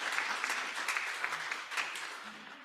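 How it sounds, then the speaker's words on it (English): An audience claps for a St. Patrick's Day Grand Marshal, a dense, steady patter of many hands that is fairly quiet and distant and is heard without talk. "And you can give him an applause"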